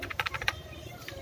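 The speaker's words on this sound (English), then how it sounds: "Now we need to type in Logopedia." Quick keystrokes on a computer keyboard, a short burst of about six soft taps followed by a single later tap, close and faint over a low background hum.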